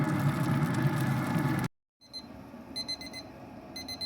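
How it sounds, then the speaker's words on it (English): A kitchen timer alarm goes off while a buttermilk-brined Thanksgiving turkey smokes: a loud steady hum cuts to silence, then bright repeated electronic beeps sound in quick bursts over a low background rumble. "see our timer went off"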